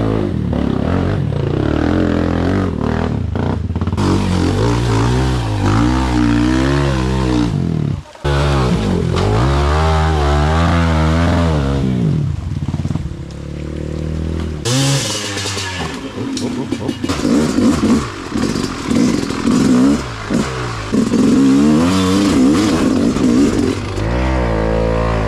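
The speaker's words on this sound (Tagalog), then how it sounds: "Grabe mga kalisto, napakaingay na itong tambutso na to." A Yamaha YZ250X dirt bike with a loud exhaust revs repeatedly, climbing and falling in pitch with rough, throaty bursts, close by and dominating throughout.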